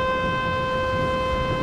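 A tide warning siren on the coast sounds a steady, sustained multi-tone wail, loud and unbroken, with faint outdoor background beneath it.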